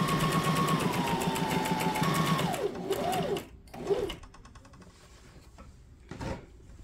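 A Brother SM2700 sewing machine runs steadily for a few seconds, then its motor winds down through a couple of short bursts before quieting, with light clicks and a faint thump near the end.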